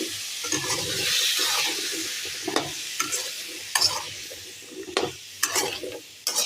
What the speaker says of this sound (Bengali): একদম অল্প তেলে হিং দিয়েছি আর জিরে দিয়েছি, বেশ কয়েকবার নাড়ার পর